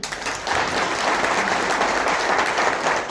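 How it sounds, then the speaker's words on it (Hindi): An audience claps loudly at a public talk, a thick, sustained wash of applause that swells quickly and holds steady to the end. "जोरदार तालियां होनी चाहिए"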